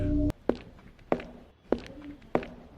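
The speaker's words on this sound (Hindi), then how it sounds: "धीमे धीमे कदमों की आवाज आ रही थी" Four slow, evenly spaced footsteps thud nearby, each a distinct heavy step with a short pause between, following a brief tonal sound at the start.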